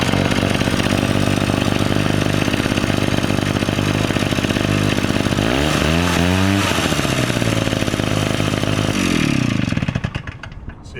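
A Schröder SR-640L leaf blower's small two-stroke engine runs loud and steady, sweeps up and down in pitch as the throttle changes, then winds down and falls quiet near the end.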